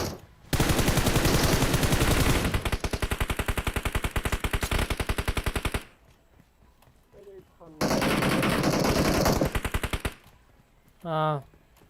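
Gunfire in the mobile battle-royale game PUBG Mobile: two long, loud sustained bursts of automatic machine-gun fire separated by a pause, with short quieter sounds between and after.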